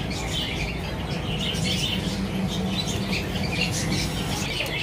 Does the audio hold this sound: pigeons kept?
yes